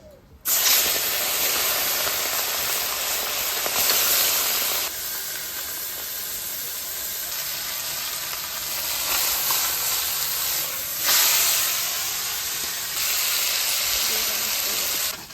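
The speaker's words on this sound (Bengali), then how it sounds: "মা তো মোরলা মাছ ভাজা করছে" Small morla fish fry in oil in a pan with a continuous hissing sizzle, swelling and easing in waves throughout; no talking.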